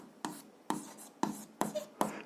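Chalk or marker strokes while writing a physics formula for liquid pressure on a board, five sharp taps and scrapes at a steady rhythm, close and alone.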